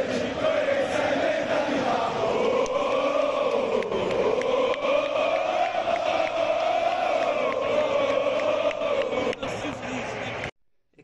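Football supporters roar in a big crowd at the Maradona stadium, a steady loud mass of chanting and cheering that carries on for about ten seconds, then cuts off abruptly.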